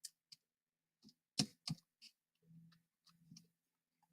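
Keys tapped on a computer keyboard to enter a math expression, a sparse run of separate clicks with a couple of sharper double taps, quiet and close, no talking.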